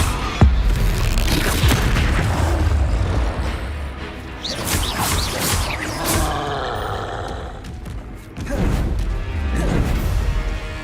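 Incendio fire spell cast in Hogwarts Legacy, a series of loud booming blasts and crashing impacts with whooshing bursts, several heavy hits spread across the stretch with brief quieter gaps between them.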